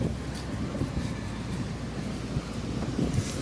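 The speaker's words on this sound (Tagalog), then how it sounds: "lakas ng hangin. Grabe. Mailipad ka ng hangin dito." Strong wind blowing at Bagasbas beach, a steady broadband rumble buffeting the microphone throughout with gusty swells and no voices.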